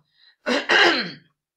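A single close, rough throat-clearing cough in two quick bursts, in otherwise quiet surroundings.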